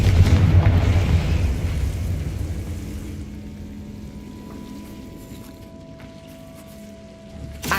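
A Confringo spell in Hogwarts Legacy sets off a loud booming blast at the start, which rumbles away into a low, quieter tail, then a faint pop near the end.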